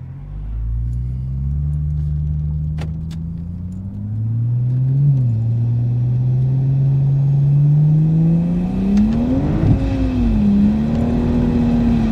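Recorded inside the cabin, a turbocharged Ford Barra on a roughly 500 kW tune with a 4-inch ANTZ exhaust and Varex muffler drones with a deep, steady rumble that rises and dips as it revs and accelerates, loud and continuous with no talk.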